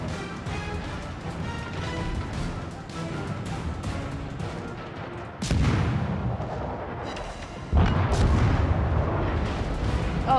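Naval artillery in the video game World of Warships rumbles steadily, then two heavy, booming salvos hit midway and near the end, loud and close, with no talking.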